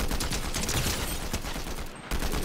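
Rapid bursts of gunfire in Fortnite, a dense, continuous crackle of shots filling nearly the whole moment with a brief dip near the end, loud and close.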